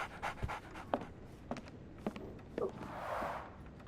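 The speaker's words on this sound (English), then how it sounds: "So, Barnes has a dog now." A dog pants in Sherlock Holmes The Awakened, a series of rhythmic breathy huffs at about half-second intervals, fairly close and clear, followed by a longer soft exhale, with no talking.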